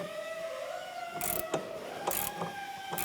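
A ratchet tightening the sway bar link nut on a 2001-2005 Honda Civic rear suspension, a few close, sharp bursts of clicking as the handle swings, over a steady hum in the background.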